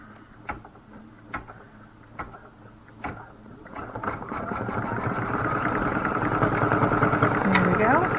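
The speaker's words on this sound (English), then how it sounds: "And we're going to stitch." A sewing machine stitches a Kimberbell Main Street Celebration pillow wall hanging: a few sharp clicks, then a close, steady mechanical whir that builds and runs to the end, with a voice faintly present.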